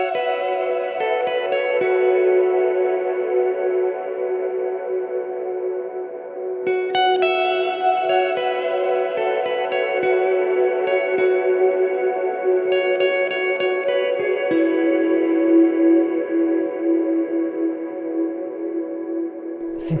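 An electric guitar plays through a Walrus Audio Fundamental reverb pedal. Sustained, shimmering notes and chords ring with long, swirling reverb tails that blur into a synth-like wash, heard alone at a steady level.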